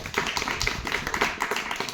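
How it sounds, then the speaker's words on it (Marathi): Applause from a lecture audience at a public social awareness talk, a dense crackle of many hands clapping steadily and fairly loud throughout, without talk over it. "जोरदार टाळ्या द्या"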